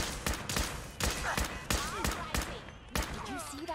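Fallout 4 video game gunfire, a rapid run of loud sharp shots in an even rhythm, with brief ricochet-like whines between bursts.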